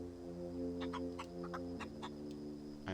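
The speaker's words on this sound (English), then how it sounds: "I'm talking to a chicken." A chicken in The Outer Worlds clucks in a short series of quick, fairly faint calls over a steady low background hum, with no talking.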